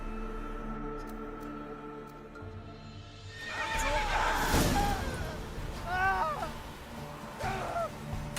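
Roach, a horse in the video game The Witcher III, gives a loud, close neigh midway and a second whinny soon after, both over soft clip-clop and faint background ambience.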